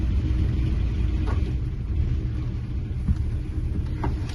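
A classic car engine idles in neutral inside a workshop, a low steady rumble with a smooth even pulse, heard from nearby and moderately loud, with no talking.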